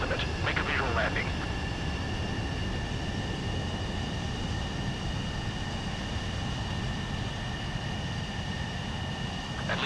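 Steady aircraft engine drone from a jet landing in the video game Ace Combat 7, a continuous broadband roar with a brief radio-like chatter burst at the start.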